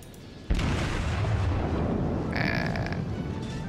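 Naval shells firing and exploding in the World of Warships video game, a sudden heavy boom followed by a sustained rumbling blast, with higher crackling bursts partway through.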